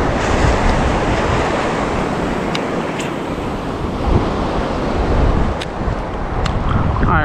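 Ocean surf breaks steadily and loudly on a Galveston beach during surf fishing, a continuous roar of waves with wind buffeting the microphone and no talk.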